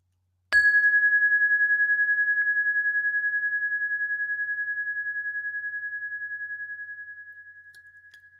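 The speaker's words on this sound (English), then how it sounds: "Chime at the beginning, chime at the end." A meditation chime is struck once, giving a clear, pure ringing tone that sustains steadily and slowly fades over several seconds in an otherwise quiet room.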